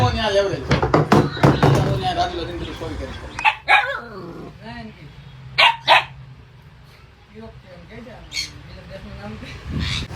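A husky barks and growls in several loud, sharp bursts with rough growly tones, mixed with people talking nearby.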